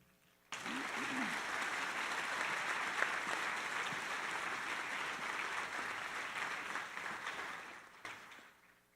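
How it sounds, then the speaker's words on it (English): At a high school senior honors assembly, an audience bursts into applause for a student award winner, a sudden start of steady, full clapping that holds for several seconds and then tapers off. "Please give a round of applause to Caden Kane."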